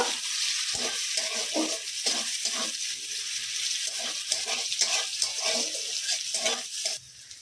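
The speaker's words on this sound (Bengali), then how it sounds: "তেলটা গরম হয়ে গেছে এবার এর মধ্যে কুচোনো পেঁয়াজ দিয়ে দিচ্ছি" Chopped onions sizzle and crackle in hot oil for crab curry (kakra kosha), with steady frying hiss, interrupted by rhythmic scraping and stirring sounds throughout.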